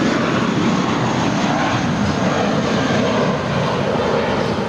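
A 21-year-old American Airlines Airbus A320 takes off from LAX, giving a loud, continuous roar from start to finish with no voices.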